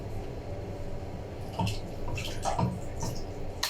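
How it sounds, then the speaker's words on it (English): Raw chicken being washed in water in a home kitchen for chicken pilau, steady running and splashing water with a few clunks and drips as pieces are handled, no talking. "I'll wash my chicken"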